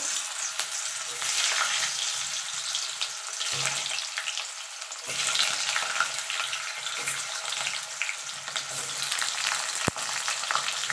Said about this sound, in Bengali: তেল গরম হয়ে গেছে এবার আলুগুলো ছেড়ে দেব